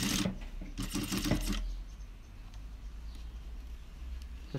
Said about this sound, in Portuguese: você costura de um lado para depois costurar do outro, justamente para não dar prega